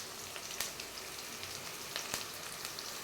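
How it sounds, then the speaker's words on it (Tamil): Mustard seeds, fenugreek, onion and chili fry in sesame oil in a pan, a quiet, steady crackling sizzle with occasional tiny pops, heard alone and fairly faint. "இப்போ நல்லெண்ணெய் ஊற்றி கடுகு வெந்தயம் போட்டிருக்கிறேன் அடுத்து வெங்காய மிளகாய் போட்டுக்கிறேன்"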